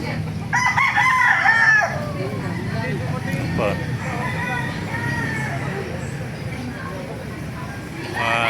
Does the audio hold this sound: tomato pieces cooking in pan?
no